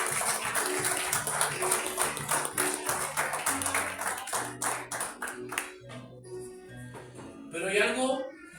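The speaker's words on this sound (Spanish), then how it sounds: "Denle un aplauso fuerte al Señor" A church congregation at a sermon on the Holy Spirit claps loudly, a rhythmic wash of hands under a voice and sustained tones that thins out and fades toward the end.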